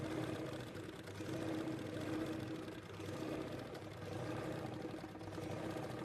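A sewing machine motor hums steadily at a near distance, its speed gently rising and falling as a foot pedal is pressed and eased, with no talking over it.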